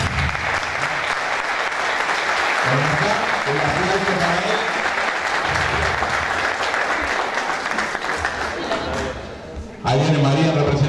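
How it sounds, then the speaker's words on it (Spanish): An audience at a book presentation and award ceremony gives strong, continuous applause, loud and dense, with voices rising over it near the end as the clapping fades. "vamos a recibir con un fuerte aplauso"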